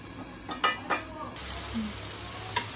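A ground spice paste sautéing in a pan for a dried fish mash, a steady sizzle with a few sharp utensil scrapes and knocks against the pan.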